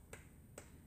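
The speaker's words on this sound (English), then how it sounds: "Aplaudimos juntos." Two crisp sharp claps or snaps in time with a bilingual children's storytime song, spaced about half a second apart against a quiet background.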